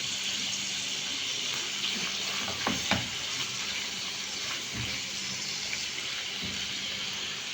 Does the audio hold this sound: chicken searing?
yes